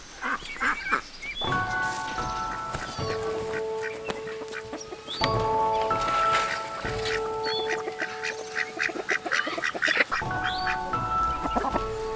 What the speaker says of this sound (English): I love ducks because they never stop looking for food.